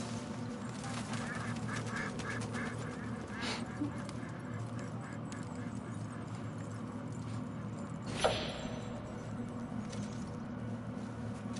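Ducks quack faintly and repeatedly in the Red Dead Redemption 2 video game, set against steady ambient outdoor noise, with low talk in the background and one brief sharp sound partway through.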